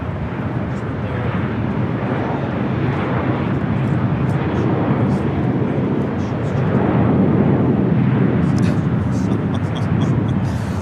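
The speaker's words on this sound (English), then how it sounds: "Philippine flight 101-3 at 777-300ER heading up for a north side at takeoff." A Philippine Airlines Boeing 777-300ER takes off at LAX, a steady, heavy jet engine roar that holds for the whole stretch, swelling slightly toward the end, with a constant broadband rumble and faint chatter beneath.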